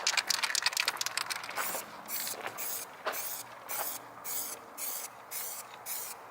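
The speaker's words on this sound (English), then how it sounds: "about to spray the final color" A spray gun lays final green paint onto a truck done up in NASCAR-style livery, hissing first in a quick burst of short sprays, then in regular evenly spaced passes, close and moderately loud with no talking.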